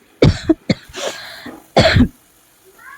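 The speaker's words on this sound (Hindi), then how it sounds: "आज खांसी बहुत आ रही मेरे गले में।" A woman coughs in a few sharp, harsh bursts, a close pair followed by a longer, louder fit, with a throat-clearing quality and quiet gaps between.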